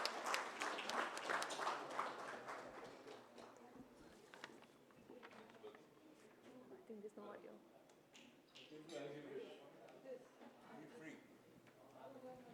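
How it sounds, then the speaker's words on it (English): Audience applause welcoming a speaker to the stage at an inaugural session: a burst of clapping at the start fades within a couple of seconds, followed by scattered room noise and murmured voices. "Please give a round of applause and welcome Mr."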